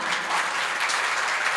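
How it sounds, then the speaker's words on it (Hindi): An audience claps together in honor of young volunteers at a Bhaktamar and bhajan evening program in Bhajanpura: dense, steady applause close by, loud and continuous with no voices over it. "तालियां एक साथ बजाइए इनके सम्मान में।"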